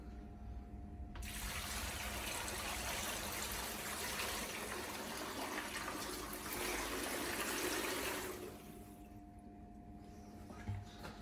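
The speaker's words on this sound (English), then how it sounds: "Then we have 10 litres of water." Ten litres of water pour steadily into a large cooking pot for Indian restaurant-style base gravy, a full gushing splash lasting about seven seconds before tapering to a quieter trickle and stopping.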